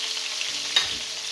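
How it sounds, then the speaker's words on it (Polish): Onion frying in rendered pork fat gives a continuous bright sizzle close by, with a single soft scrape or stir partway through and no talking. "na tym wytopionym tłuszczu podsmażamy cebulę"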